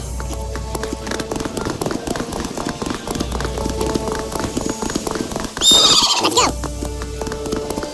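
In Witcher 3, Geralt's horse Roach gallops with steady, rapid hoofbeats under game ambience and a brief spoken line, then lets out a sharp, loud whinny near the end.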